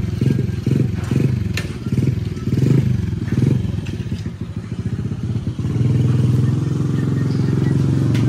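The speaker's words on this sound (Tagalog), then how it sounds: "Ay, umandar yung motor, oh." A motorcycle engine starts and then runs with a steady, rumbling putter, fairly close, with some clatter early on.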